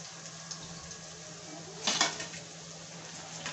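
Fried corn tikki lifted out of a pan onto a plate, a quiet background with a soft hum, one sharp metallic clink and scrape of utensil against dish midway, then faint small taps.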